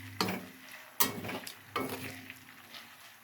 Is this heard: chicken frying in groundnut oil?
yes